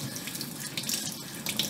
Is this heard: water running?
yes